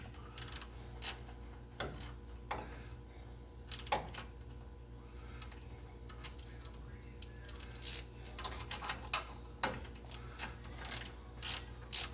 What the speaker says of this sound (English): We're using the Pittsburgh Pro ratchet, 3/8 drive.